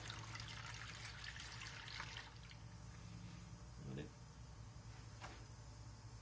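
Engine oil from an MT125 tractor drains into a drain pan as a faint, steady trickle, with a few soft splashes near the end. The room is otherwise quiet.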